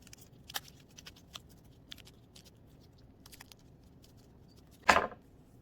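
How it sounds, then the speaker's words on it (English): Scissors cut out paper triangles for a snowflake, giving sparse, quiet snips, then one louder, longer crisp snip near the end. "And then we will cut these out."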